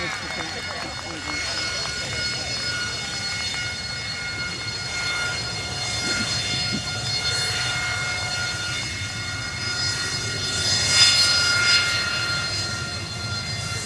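A Spanish Navy EAV-8B Harrier II+ jet roars during a flying display at the RIAT 2024 air show, a loud sustained engine roar with steady whining tones that swells briefly near the end.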